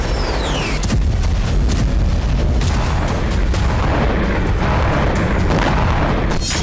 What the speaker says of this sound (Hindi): यूक्रेनी फोर्स के गढ़ पर जबरदस्त बमबारी की